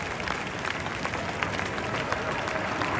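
Spectators at an outdoor air show in Bari applaud a jet display team, a steady wash of many hands clapping at a moderate distance that carries on for a few seconds.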